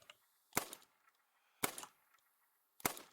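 A .22 rifle fired while goose hunting: three sharp, fairly quiet cracks spaced about a second apart, each dying away quickly into near silence outdoors.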